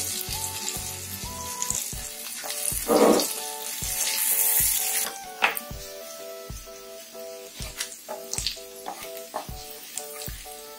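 Garlic sizzles softly as it sautés in a pan while a utensil stirs and taps against it at intervals, close up, with a brief louder hiss midway.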